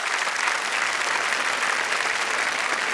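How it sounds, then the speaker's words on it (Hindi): Steady, dense audience applause filling a stand-up comedy show hall, continuous and even throughout. "ये तालियों की बरसात जो है यहाँ पे"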